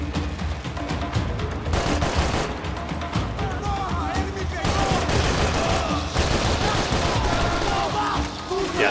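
Rifle blind fire in the shooter game Max Payne 3, rapid overlapping gunshots in loud continuous volleys, with explosions and combat clatter mixed in throughout.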